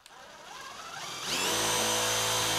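An impact driver fitted with a drill bit winds up from a low whir into a loud, steady high-pitched whine as its speed climbs, close and continuous.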